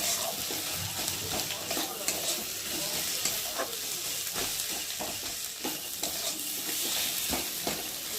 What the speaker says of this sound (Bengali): দিয়ে মশলাটা ভালো করে কষিয়ে নেবো তেলের মধ্যে।